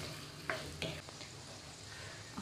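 Potato frying over a high flame gives a faint, steady sizzle, with a few soft scrape or stir taps on top and no talking.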